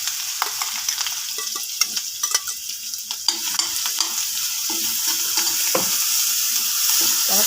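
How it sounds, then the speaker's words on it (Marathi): Green chili paste frying in hot oil in a pan, a steady bright sizzle with scattered crackles and stirring scrapes that grows fuller and more constant toward the end, close and alone. "त्याच्यामध्ये आपण हा मिरचीचा जो ठेचा वाटून घेतला होता तो टाकून घेणार आहोत."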